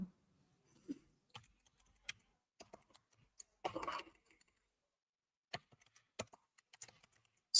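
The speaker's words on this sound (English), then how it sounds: "So let's type it again." Keystrokes on a computer keyboard while entering a command to stop VMs in Central India, sparse clicks coming in short bursts with a denser cluster midway, quiet and close with no talk.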